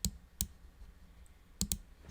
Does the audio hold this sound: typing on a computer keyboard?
yes